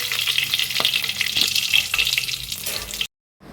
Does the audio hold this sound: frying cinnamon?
yes